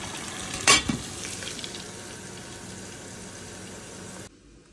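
Vegetables frying in a pan with ridged gourd, giving a steady broadband sizzle throughout and a sharp clatter of stirring near the start, then an abrupt drop to quiet at the end.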